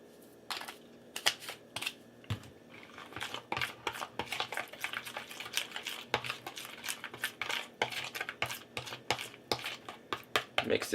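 Minced garlic, onion powder and spices get mixed in a bowl for shrimp tacos: rapid light clinks and scrapes of a utensil against the bowl, steady and close, with no talk during the stirring.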